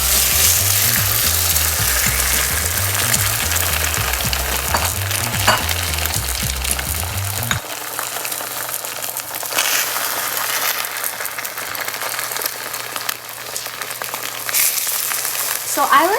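Eggs frying in a hot pan with turnip and taro cake, a loud continuous sizzle and crackle that lasts throughout, with stirring and scraping sounds over the top in the opening seconds.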